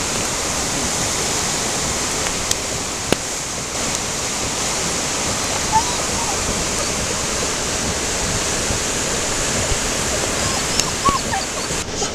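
Zeballos River at high water after rain on snow, a broad, steady rushing roar close by, unbroken for the whole stretch with a few faint knocks over it.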